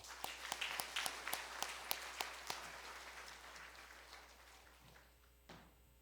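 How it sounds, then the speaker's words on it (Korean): Church congregation at a small-group end-of-term worship service claps in a steady, slow rhythm of distinct claps that fade out after a few seconds, fairly faint. "박수하겠습니다"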